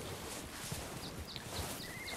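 A white Arabian horse in the video game Red Dead Redemption 2 walks with soft, irregular hoof clops, faint and fairly close, over quiet ambience with a few light bird chirps.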